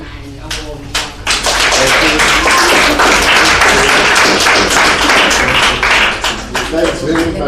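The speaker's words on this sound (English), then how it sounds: "You ought to be very careful about applauding a subversive so loudly" Audience applause for a speaker at a talk on nationalization, starting with a few scattered claps, then building quickly into loud, dense, sustained clapping from a large crowd that begins thinning toward the end.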